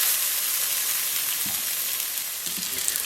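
Lithuanian kotletai cutlets sizzle steadily in a frying pan, a continuous bright crackle of hot oil with a few soft knocks as they are flipped partway through.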